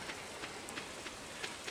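Rain in Stardew Valley falls as a soft, steady patter, quiet and continuous, with faint droplet taps recurring evenly across the short stretch.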